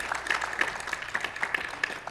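Audience applause at a Sunday satsang gathering, soft, scattered hand claps with a light irregular rhythm, fairly faint and slightly distant.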